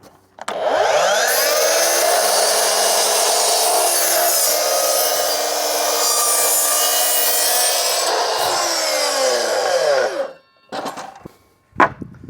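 A Hilti mitre saw spins up and makes one steady cut lasting about nine seconds, loud and close, then winds down, followed by a couple of short clattering bumps.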